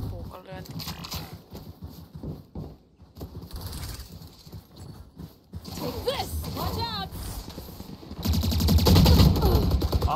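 Rapid gunfire bursts in Valorant crackle intermittently under excited Finnish talk, growing louder and denser toward the end.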